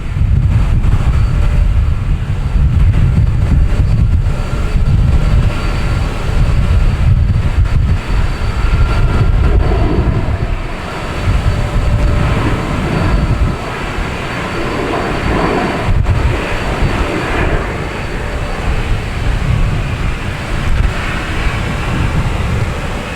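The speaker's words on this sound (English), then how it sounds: "Alaskan Airlines coming in from San Francisco." An Alaska Airlines Boeing 737 MAX 9 lands at Boston Logan, its jet roar a loud, steady rumble with wind buffeting the microphone throughout.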